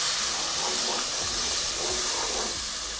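Tomatoes dropped into a hot pan over onion and garlic for Saudi chicken kabsa, giving a loud continuous hissing sizzle close by with no talk.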